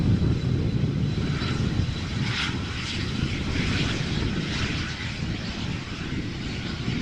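An Embraer Phenom business jet passes overhead at Amsterdam Schiphol Airport, a steady, loud broadband engine roar with a low rumble that holds for several seconds and eases slightly toward the end, with no voices.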